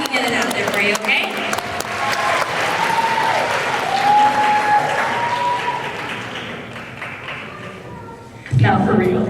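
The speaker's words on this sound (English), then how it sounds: "So let's give her a big round of applause" An audience at an idol stage show bursts into loud, sustained clapping and cheering that fills several seconds, then fades as a short bump of noise closes it out.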